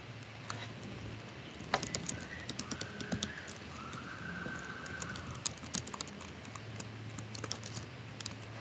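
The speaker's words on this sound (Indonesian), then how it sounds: "tinggal diketik" Typing on a computer keyboard while titles are entered in video editing software, with a steady run of quick, light key clicks and a few louder taps, fairly close, with no talking.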